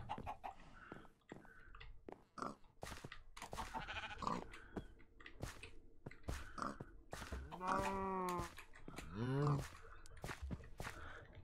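Sheep bleating in Minecraft Skyblock One Block. Two drawn-out game bleats stand out near the end over a busy mix of clicks, steps and other game sounds.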